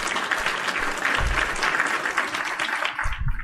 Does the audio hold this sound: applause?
yes